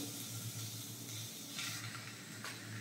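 Cleaned white tuna pieces hit hot fried masala in a pan, giving a steady, moderately loud sizzle and hiss that continues throughout with no talking.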